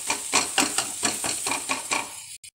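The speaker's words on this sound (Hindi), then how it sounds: "तो सारे मसालों को हम अच्छे से मिक्स कर लेंगे।" Spices for tomato rice are stirred in a pan with a quick, steady run of scraping strokes over a soft sizzle, close up, stopping abruptly near the end.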